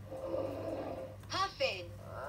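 A Leapfrog animal book toy plays a polar bear roar, a low, rough, sustained growl lasting about a second, followed by a short electronic voice from the toy.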